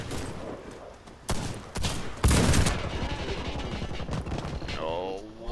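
Gunfire in the Warface shooter game: repeated sharp shots and short bursts, loud and close, with player chatter heard around the shooting.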